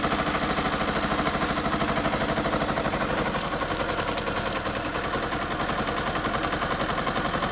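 A Honda CB 300 or XRE motorcycle engine with a cracked cylinder head runs loudly up close, sputtering in a rapid, rough, uneven popping rhythm that shifts partway through, spitting water and steam.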